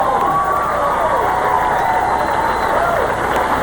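A bowling crowd cheers and roars steadily throughout at a championship title match, a broad continuous swell of voices with announcer talk mixed in.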